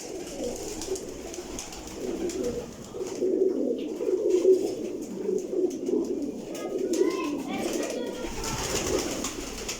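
Pigeons, among them a sick bird with paralysis, cooing in soft repeated low murmurs across the whole stretch, close and steady with faint background noise and some talk.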